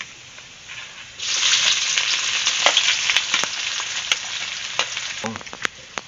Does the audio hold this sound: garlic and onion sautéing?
yes